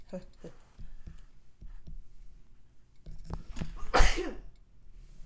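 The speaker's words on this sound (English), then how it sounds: "Ooh, sorry in advance, I'm gonna sneeze." After some scattered sniffs and light throat noises, a single loud, sharp sneeze bursts out close by, followed by quieter breathing.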